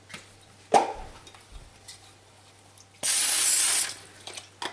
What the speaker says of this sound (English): Let me spray the bottom of the pan just in case so they don't stick.